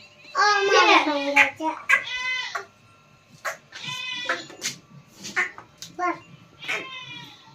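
Goats bleating nearby amid a busy household, with children's voices talking and calling out over and between the wavering, harmonic bleats.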